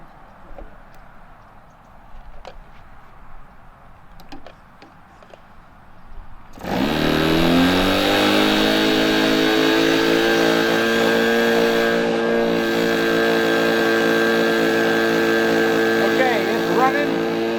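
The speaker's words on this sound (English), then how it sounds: "And this will be the first crank of the engine." After a few quiet seconds of faint ticking, a model airplane engine on a Kadet Senior starts during break-in and holds a loud, high, buzzing whine for the rest of the clip.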